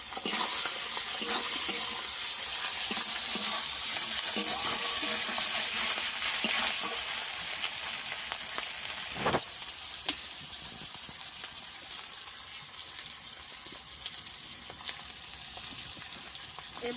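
Ginger paste and spices sizzle steadily in a pan while being stirred, a dense hissing fry with a few scraping knocks and a sharp clatter midway.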